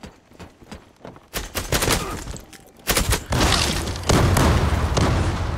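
Rapid bursts of gunfire from the video game Zula, loud and close, with repeated automatic volleys and booming shots building into sustained heavy firing.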